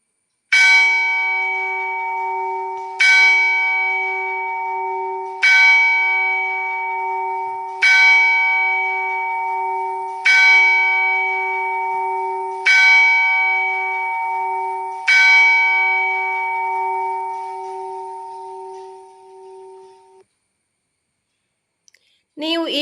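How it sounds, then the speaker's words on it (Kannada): A metal bell rings seven times at an even, slow pace, each clear ringing tone decaying before the next strike, then fading into silence. "ಆ ಶಬ್ದವು ಗಂಟೆ ಮೊಳಗಿದ ಶಬ್ದವಾಗಿತ್ತು."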